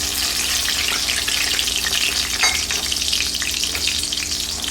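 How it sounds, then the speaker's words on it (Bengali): Chopped onion and bay leaves frying in oil in a pan, a steady, close, bright sizzle running evenly throughout with faint stirring and no talk. "পেঁয়াজটা হালকা লাল করে ভাজতে ভাজতে"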